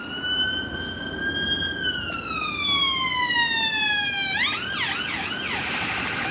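A police vehicle siren passes outside, its wail sliding steadily downward in pitch before switching to a rapid warbling yelp, moderately loud over a rumble of traffic with no one talking.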